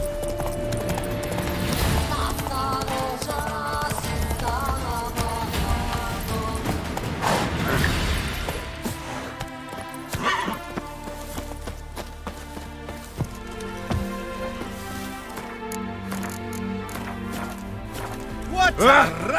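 Roach the horse's hooves in The Witcher 3 clip-clop steadily at a trot on the ground, close and fairly loud, with game voices and background sounds layered around them.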